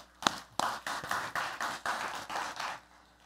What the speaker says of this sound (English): Can we just give a big round of applause to all of them?